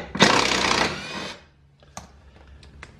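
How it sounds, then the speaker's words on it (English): A power driver whirrs loudly for about a second while backing a torx screw out of a RZR 1000 XP door, then a few light metallic clicks and taps follow. "First thing you do is remove this torque screw here."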